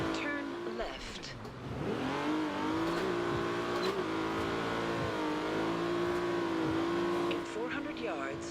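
Game car engine in Forza Horizon 2, fitted with a carbon fiber hood, holds a loud sustained rev near its 8,000 RPM redline, pitch wavering and climbing slightly, with someone talking over it throughout.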